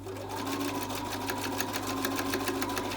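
A sewing machine stitches elastic into a fabric face mask with a steady, fast mechanical rattle and a clear rhythmic needle beat. The motor hums continuously close up, with no speech.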